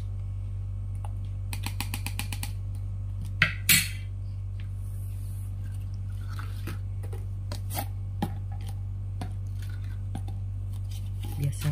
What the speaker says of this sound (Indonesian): Ambil 3 sendok dulu dalam satu gelas ya.